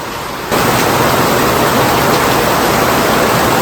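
A dense, steady hiss of heavy rainfall from a typhoon in the rural Philippines starts abruptly and continues unbroken, loud and close with no other sounds.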